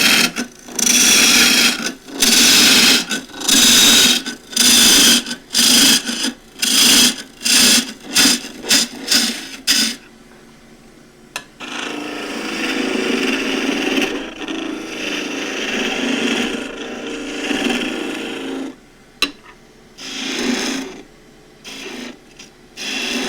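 An old table leg being turned on a wood lathe into a tool handle, with a rapid series of close, loud rasping cuts at first, then a longer continuous scraping cut, then a few more short passes.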